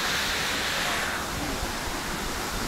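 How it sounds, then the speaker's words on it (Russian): Bang Pae waterfall in Phuket, Thailand roars as a constant, dense rush of falling water, loud and close with no break and no talking. "Вот мы добрались на водопад."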